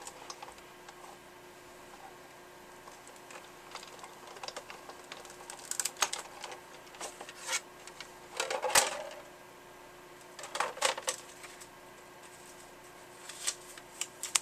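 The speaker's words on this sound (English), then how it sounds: "Alright, so I'll just run that through my machine." A paper die-cutting machine feeds a card through for an inlaid die cut, giving scattered clicks, rattles and ratcheting bursts close by in a quiet room, with no voices.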